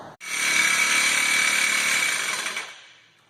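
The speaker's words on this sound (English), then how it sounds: "Drilling a hole." A power drill bores a hole through steel in a furnace build, a loud, steady whine lasting about two and a half seconds before winding down.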